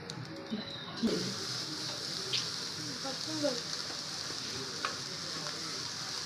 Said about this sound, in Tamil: கட்டி பிடிக்காமல் நல்லா கிளறிட்டே இருக்கணும்